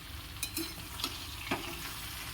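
Eggplant fries in a pan with a faint, steady sizzle, broken by a few brief scraping clicks from stirring; no one speaks.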